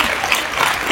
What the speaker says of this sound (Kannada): ಜೋರ ಹೊಡಿಬೇಕು, ಚಪ್ಪಾಳೆ ಜೋರ ಹೊಡಿಬೇಕು.